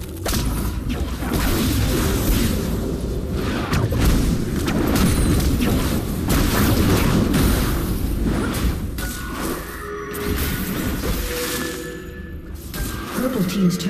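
A turret being destroyed in a League of Legends match: heavy booms, crashes and whooshing effects pile up in a dense, loud game soundscape, with voices over the action.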